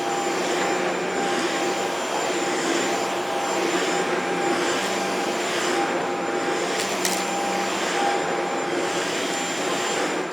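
A Shark Ultralight PetPro corded stick vacuum with PowerFins HairPro runs continuously on a floor, a steady loud whirring motor roar with a faint high whine, close and unbroken throughout.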